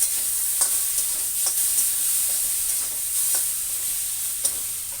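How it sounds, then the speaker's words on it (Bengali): Whole spices and grated ginger fry in a pan, giving a constant bright sizzle with a few soft stirring scrapes and no talking. "এবার মাথা দিয়ে এগুলো মশলাপাতি সুন্দর করে ভেজে নেব"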